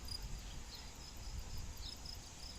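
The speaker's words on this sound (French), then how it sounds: "C'est pas des cigales, c'est des grillons." Faint, steady chirping of crickets in a quiet farm setting, a thin high trill repeating over a low background hush.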